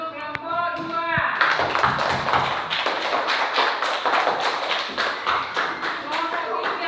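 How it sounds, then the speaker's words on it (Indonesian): A group of people clap their hands together for a team in a classroom-style session, a burst of many overlapping claps after a short voice, loud and close, continuing steadily. "tepuk tangan untuk kelompok 2."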